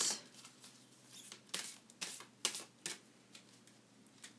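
Oracle cards from the Angel Answers deck are shuffled and drawn by hand, giving a quick series of close, soft riffling and flicking taps in an irregular rhythm.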